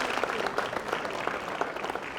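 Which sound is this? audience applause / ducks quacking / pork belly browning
audience applause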